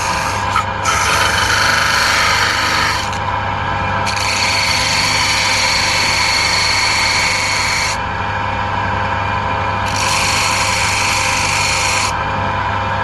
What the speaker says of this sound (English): We've just sanded the back of it on the linisher.